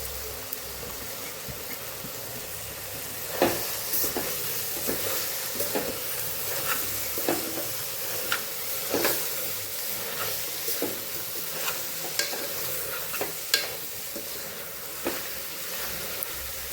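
Chopped mixed leafy greens tossed and stirred in a kadai, with a soft steady sizzle and scattered scraping clicks of the spoon through a fairly quiet, close sound.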